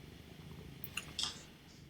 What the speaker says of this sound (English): I can hear the cat purring.